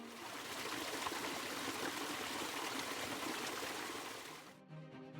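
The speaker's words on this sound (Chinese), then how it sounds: "这里还能欣赏瀑布源头沿着峭壁流淌而下。" A waterfall's source streaming down a cliff face beside a narrow, winding mountain road in Iceland's eastern fjords, a continuous rushing flow heard fairly close that cuts off abruptly just before the end.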